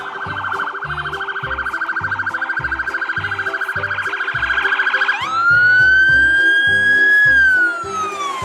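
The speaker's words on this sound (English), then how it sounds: "Police car." A toy police car gives off a loud electronic siren, first a fast warbling wail with a pulsing low beat, then a rising steady yelp tone that holds for a few seconds, alone and close.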